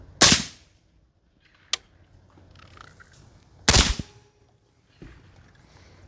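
Two sharp suppressed shots from a PRI MK12 .308 rifle crack loudly a few seconds apart outdoors, each followed by a brief echo, with faint clicks and handling noise in between.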